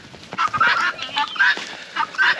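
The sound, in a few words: birds clucking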